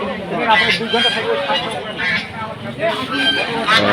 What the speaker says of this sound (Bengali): এই পাশে আরো হাঁস হাতে আরো হাঁস ভাই ধরে আছে